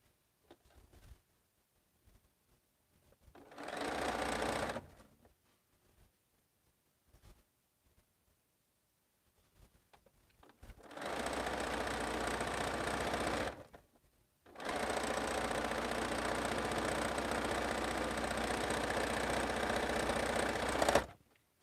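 A sewing machine stitches a quilt sample for a bento box pattern: three close, steady bursts of whirring needle runs, the last two long, separated by quiet pauses, with no talking.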